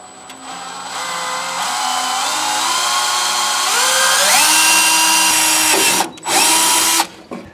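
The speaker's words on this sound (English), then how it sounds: "I'm gonna go ahead and use a small drill bit to start everything." A power drill with a small bit bores a starter hole in metal while an electric brake vacuum pump is being installed, a steady high whine close by whose pitch rises as it cuts, then briefly stops and restarts near the end.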